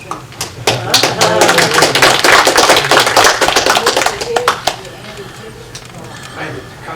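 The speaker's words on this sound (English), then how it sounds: "Can we applaud the speakers before questions?" Conference audience applauding the speakers at a physics meeting, a dense burst of clapping that swells, then fades out after several seconds, followed by quiet room noise.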